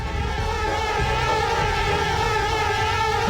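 Steady, continuous buzzing of bees in the video game Conker's Bad Fur Day, a close droning hum with a wavering pitch that runs throughout without any speech.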